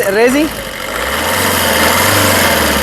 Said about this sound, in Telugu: ఈ కారు రేజ్ ఇచ్చి ఇంజన్ యొక్క నాయిస్ అనేది వినిపిస్తాను